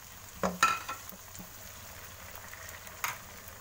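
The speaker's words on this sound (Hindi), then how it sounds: "अब हम इसमें ये टमाटर हरी मिर्च ऐड कर देंगे।" Tomatoes and green chillies dropped into frying onions in a pan, giving a few sharp sizzling bursts over a soft continuous crackle of oil.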